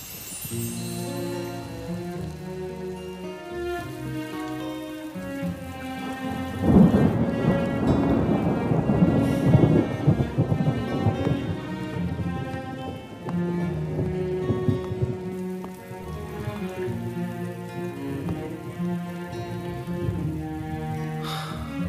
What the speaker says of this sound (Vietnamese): Mưa rồi.